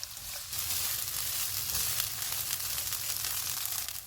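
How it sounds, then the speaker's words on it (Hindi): Carrots and boiled shredded chicken, seasoned with garlic powder and salt, frying in hot oil over medium-high heat, a constant soft hiss and sizzle that swells after a quiet start, with no talking. "चूल्हे को मीडियम टू हाई रखेंगे और इनको 2 मिनट तक भूनेंगे।"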